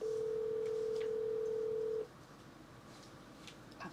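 A telephone gives a steady, loud tone for about two seconds, then cuts off and leaves a quieter line hiss with faint background noise.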